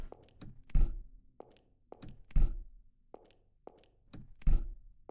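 Metallic knocks and thunks in an uneven pattern, with heavier clanks recurring every couple of seconds, as a locked iron gate is shaken and rattled in the video game The Hanged Man.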